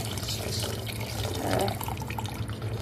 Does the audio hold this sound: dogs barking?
no